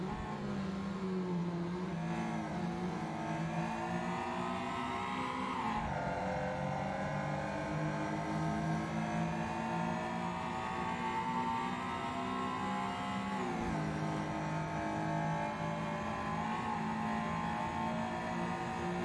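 Caterham race car engine at full throttle in a racing game at Mont Tremblant, a loud sustained engine roar climbing in pitch through the revs, dropping briefly at two gear shifts before rising again.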